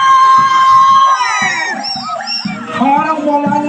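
A crowd of women delegates at a Women's Month celebration in Bacoor City, Cavite, shouts and cheers in loud, sustained bursts, with excited high voices rising and falling over a few seconds.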